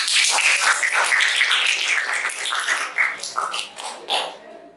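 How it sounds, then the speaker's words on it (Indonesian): Students in a classroom clap together after a statistics lesson, a dense, steady burst of applause with no talking that thins into scattered claps before stopping. "Tepuk tangan untuk kalian semua."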